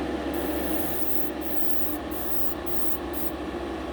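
An airbrush sprays tint in light coats onto model car window glass, a steady close hiss that cuts off briefly several times as the trigger is released and pressed again.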